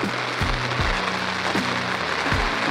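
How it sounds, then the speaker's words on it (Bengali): Heavy rain pours down outdoors as a steady, dense wash of noise, with a few dull low thumps breaking through now and then. "দারুণ প্রচুর হারে বৃষ্টি হচ্ছে"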